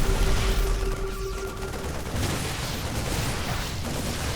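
StarCraft II units trade sustained gunfire in a dense, loud battle, with rattling volleys and booms running steadily throughout, with no voices.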